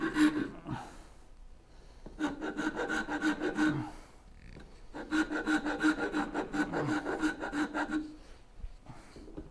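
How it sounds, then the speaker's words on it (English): A hand tool scrapes and rasps cherry wood while shaping bow saw handles. Two long runs of rapid, rhythmic back-and-forth strokes come close and fairly loud, with a short pause between them and no talking. "cover your ears because you're going to be hearing scraping for a while"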